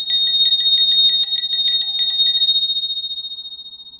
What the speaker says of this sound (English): I love the bell.